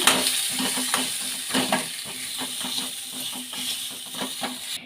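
Fried onions and coconut sizzle steadily in a hot pan with repeated scraping and stirring strokes, close and continuous, with no voices.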